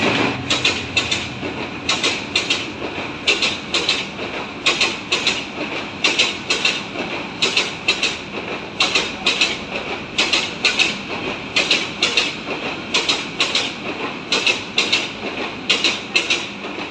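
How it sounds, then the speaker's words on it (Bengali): A train passing a house that sits right beside the rail line in Narayanpur, a steady rumble with regular repeating clickety-clack beats of the wheels over rail joints, sustained and fairly loud with no voices. "ঘর থেকে ট্রেন দেখা যায়"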